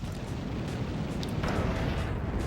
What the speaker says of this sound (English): there's actually fireworks happening now. Outside